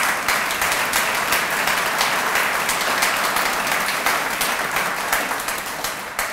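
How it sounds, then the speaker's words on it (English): University campus assembly audience claps for the grounds staff, a full, sustained round of applause at close range that carries evenly and begins to taper near the end. "You can clap."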